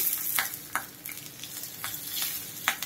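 Green chillies sizzle in hot tempering oil with cumin seeds, over a gas flame that has just been switched off, while fasting dhokla is being made. A steady close crackle and hiss carries a few sharp stirring taps.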